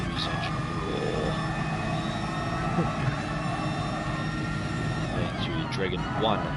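Racing car engine roaring around the Suzuka circuit in a video game Supercars race, a sustained high engine drone with shifting pitch, steady and loud throughout.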